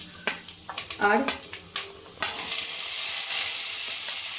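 Cashews, peanuts and raisins hitting hot oil in a wok and being stirred, with a brief spoken word and clatter before a steady loud sizzle builds.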